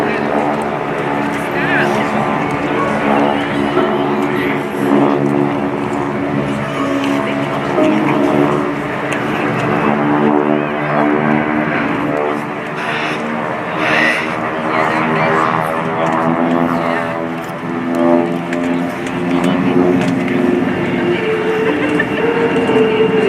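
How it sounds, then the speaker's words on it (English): Piston-engine airplanes of the GEICO Skytypers solo team pass low at the 2019 NAS Oceana airshow, a loud sustained droning roar that swells and fades slightly while an announcer talks over it. "Look to your left as the Solos use a series of tight tactical turns to set up for a high-speed, low-altitude bombing pass."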